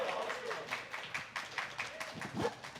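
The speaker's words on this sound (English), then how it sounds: "Big round of applause." Audience applause at a Call of Duty Q&A as three guests come on stage, a steady patter of many hands clapping at moderate level with chatter mixed in.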